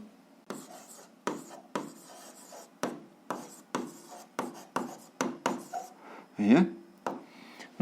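A pen scratches an algebra answer onto paper in a series of short, crisp strokes with brief pauses, close and fairly quiet, while a voice briefly speaks near the end.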